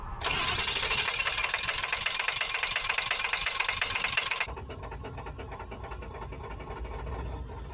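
A motorhome engine cranks steadily and repeatedly for several seconds without catching, then the sound drops to a quieter, rougher running or idling tone.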